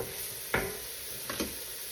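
Onions in a pan keep up a steady, soft sizzle, with a couple of brief scraping strokes from stirring standing out over the constant hiss.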